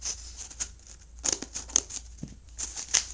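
Scissors snipping through the plastic packaging of a boxed Ertl toy train set with Annie and Clarabel coaches, a series of short, close, crisp cuts and crinkles spaced irregularly over a quiet background.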